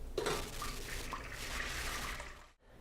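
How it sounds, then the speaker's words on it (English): Beer braising liquid from beef shanks poured through a strainer, a continuous close splashing flow that trickles off and stops abruptly near the end, no talking. "pour it through the strainer."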